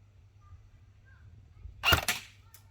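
A single sharp airsoft BB gun shot fired through a chronograph, a loud crisp crack with a quick follow-up and a fainter tap after, over low background hum.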